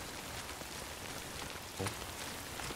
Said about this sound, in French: je pense que c'est scripté là, la pluie ici,